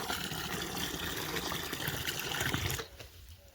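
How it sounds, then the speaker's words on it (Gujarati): Water pours steadily into a dog's water bowl in a village yard, a continuous close splashing gush for nearly three seconds before it cuts off, leaving only a quiet background. "અહીંયા કૂતરા માટે પાણી મૂકેલું છે ત્યાં રેડવાનું કીધું મને"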